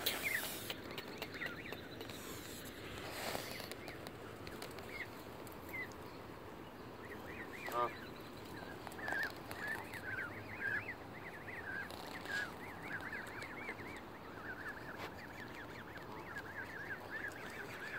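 Geese honk and call at a distance over steady outdoor background noise, a few squawks rising above a busy flock.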